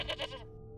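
A goat in a video game gives two quick wavering bleats close up, then falls silent under a low steady background hum.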